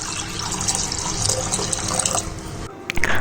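Water pours from a tap into a pot of lentils with turmeric, garlic and chilli set to cook, a steady close gush of running water that cuts off near the end, followed by a few splashes.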